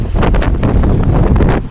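Strong wind buffets the microphone on a boat travelling down a mountain river in Yakutia, a steady roaring gust with rustling that stays loud throughout, with no talking.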